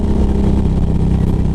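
A 2011 Harley-Davidson Road Glide engine revving, a loud, steady low rumble with a throbbing, pulsing character, heard up close from the rider's position.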